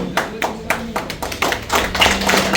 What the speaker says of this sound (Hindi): जोरदार हाथताली के साथ